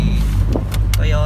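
A Toyota Corolla small body car hums with a steady low engine drone, close up, broken by a few short bursts of noise and clicks.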